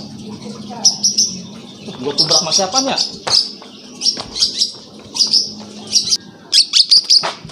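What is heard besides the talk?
bird chirping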